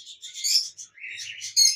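A pet breeding pair of birds, a female and a red-headed male, chirp in a short bright run of tweets, a burst, a pause, then another cluster of calls, close and clear with no talking.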